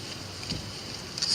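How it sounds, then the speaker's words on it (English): Wind blows steadily across an outdoor night-sky watching spot and rumbles against the microphone. The broadband noise stays constant for the whole short stretch, with small gusty swells. Nobody speaks. "It's windy."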